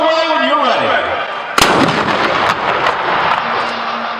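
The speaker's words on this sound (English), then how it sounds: "Cannonball Charlie, fire away when you're ready" A York Revolution ballpark cannon fires a single loud, sharp boom midway through, followed by a rumbling decay over steady crowd and background noise, with a voice audible before the blast.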